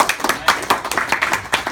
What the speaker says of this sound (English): give DJ a big round of applause for DJ